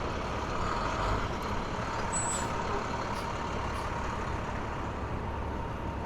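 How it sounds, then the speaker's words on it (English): Heavy traffic on Manhattan's 11th Avenue heading toward the Lincoln Tunnel, with a loud, continuous roar of trucks and engines. A brief hiss like an air brake is heard partway through, and faint beeps sound in the background. "A lot of traffic here on 11th Avenue."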